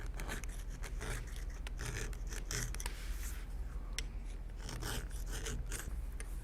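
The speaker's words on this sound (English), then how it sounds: "we will only bevel the back side on the top and the flap" A steel edge beveler skives along leather edges for a steampunk waist bag, giving steady close scraping strokes with light rasping texture.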